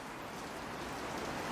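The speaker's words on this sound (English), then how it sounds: "It's raining like a cow peeing on a flat rock out there." Steady rain patters on a metal shop roof, a soft continuous hiss of drops with no voices.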